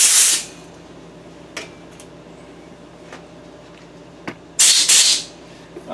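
Compressed air blasts debris out of a part from a 2007 Chevy 5.3 engine under rebuild, with two loud hissing bursts at the start and near the end and brief puffs in between.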